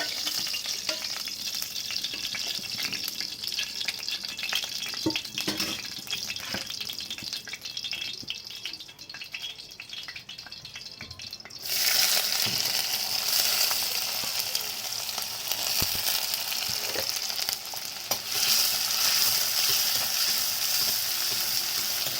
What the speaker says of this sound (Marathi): कांदे इकडे फ्राय होत आहे